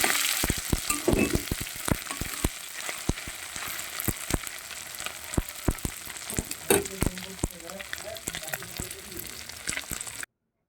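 Small chela river fish fry in oil, their backs being crisped to a reddish brown, with a steady broadband sizzle and frequent sharp crackles and pops close by throughout, ending abruptly.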